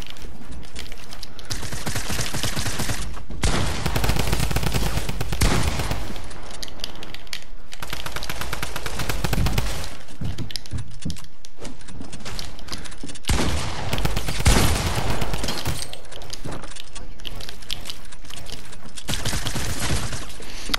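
Rapid bursts of SMG fire from Fortnite, dense and loud, repeating in long sustained volleys with brief pauses between them and no talking.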